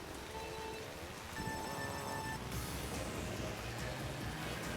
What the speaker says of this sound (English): that is some hard rain.